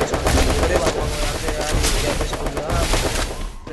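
Continuous gunfire from a shooting video game, overlapping shots and bursts packed tightly together for several seconds, loud and steady throughout.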